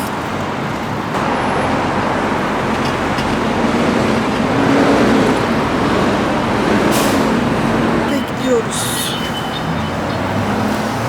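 Buses and other traffic pass by a bus stop in Korea, a steady loud roadway roar with swells as vehicles go past; a voice speaks briefly near the end.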